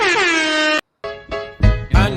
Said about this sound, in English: Little air horn.